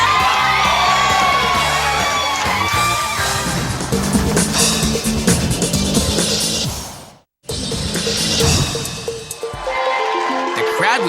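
Outdoor crowd at a fried fish escovitch cook-off in Montego Bay, cheering, whooping and yelling loudly and continuously, with shouting voices mixed in, a brief silent break, then the noisy crowd resumes.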